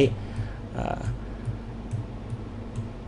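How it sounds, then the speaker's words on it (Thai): Faint computer mouse clicks, spaced about half a second apart, tick over a low steady hum while an image is panned in SnagIt screen-capture software. "โดยการคลิกเมาส์ แล้วก็เลื่อน ภาพไปยังส่วนต่างๆที่เราต้องการจะดูก็ได้"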